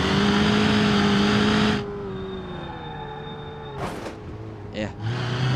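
Modded Renault Megane engine in a video game, a steady high-pitched droning rev that drops off abruptly, then lower engine hum with brief whooshes before the revs climb again.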